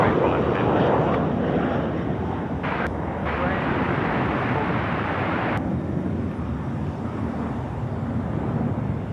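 A jet airliner starts its takeoff roll at Sydney Airport at night, its engines making a loud, steady broadband roar that fills the whole stretch and eases slightly toward the end, with spectators talking over it.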